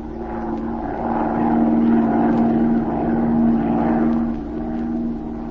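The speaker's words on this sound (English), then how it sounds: "Z and Patricia Norwood took off in Z's plane and began to circle lazily over the city" A propeller plane drones steadily overhead, its engine hum swelling and easing as it circles lazily above a city, loud and continuous with no voices.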